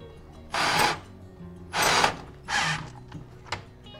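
A screw with a washer tightened into an Ikea Trofast wall bracket, with three short, fairly loud ratcheting bursts close by, then a faint click.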